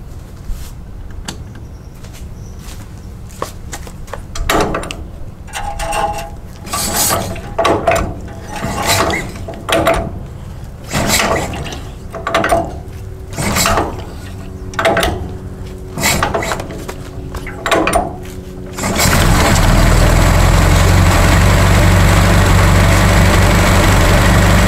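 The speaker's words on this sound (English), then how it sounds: "Now I want to see if it'll start on magneto." An overhauled Ford Model T engine is hand-cranked in repeated uneven mechanical strokes, then abruptly catches and runs on magneto with a loud, steady, dense roar close by.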